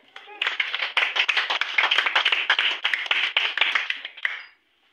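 A church congregation claps together for about four seconds, a dense run of close, rapid hand claps that stops abruptly; no talking.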